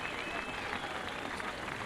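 Crowd at a Kearsney College versus St Stithians schools rugby match applauding in a brief burst, dense distant clapping heard alone.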